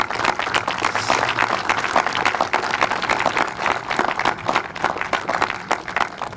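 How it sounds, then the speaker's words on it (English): A crowd applauds steadily at a memorial park dedication, many hands clapping in a dense, continuous patter for several seconds. "You all deserve a round of applause"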